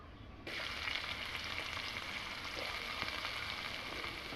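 Chopped onion, panch phoron and bay leaves frying in hot oil, a steady close sizzle and crackle that jumps up suddenly as the ingredients go into the pan, then holds even with no talking.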